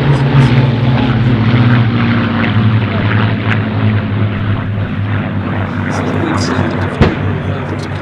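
Hispano Buchon and Yak-3 propeller fighters at the Duxford Battle of Britain airshow, a loud steady droning engine hum with strong low harmonics, while an announcer talks over it.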